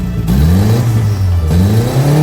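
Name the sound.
employee car engine revving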